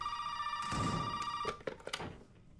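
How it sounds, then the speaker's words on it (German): An old-style telephone bell rings inside a room in the video game Resident Evil 7, a steady loud ring that cuts off and gives way to clattering noises. "du verlässt den Raum und auf einmal klingelt das Telefon"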